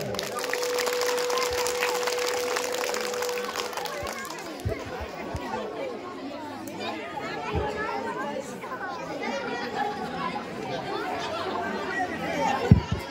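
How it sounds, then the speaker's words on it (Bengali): Audience applause at a school drama show, a brief burst of clapping at the start that gives way to lively crowd chatter and children's voices. "হাততালি সবাই।"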